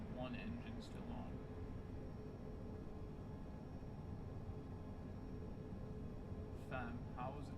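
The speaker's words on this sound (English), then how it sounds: "Why is one engine still on?" A jet engine in Microsoft Flight Simulator hums on as a low, steady roar under the cockpit ambience after shutdown, with brief voices at the start and end.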